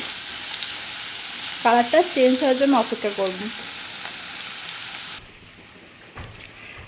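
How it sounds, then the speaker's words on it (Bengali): Papaya pieces frying in a pan, seasoned with turmeric and salt, giving a loud continuous sizzle that runs under brief speech and then cuts off abruptly near the end. "পেঁপেগুলোকে এভাবে 4-5 মিনিট ভালো করে ভেজে নেব"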